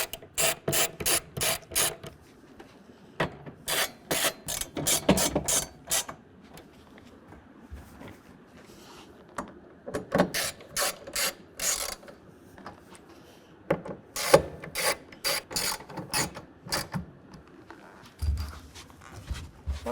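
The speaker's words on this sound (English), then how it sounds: "I'm going to go ahead and tighten this one down" Ratchet tightening a tonneau cover mounting bolt on a 2022 Toyota Tundra, quick bursts of sharp clicking strokes in several separate groups with short pauses between, close and fairly quiet.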